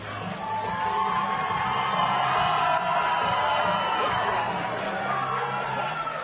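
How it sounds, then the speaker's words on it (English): A home crowd at a men's college basketball game between College of Southern Idaho and CWC cheers on its feet as the team returns to the floor, a loud, sustained roar of voices and whoops filling the arena. "Crowd on their feet as their Rustlers head back out onto the floor."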